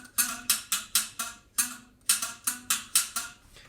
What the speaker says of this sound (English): here's the sound of the mbira again,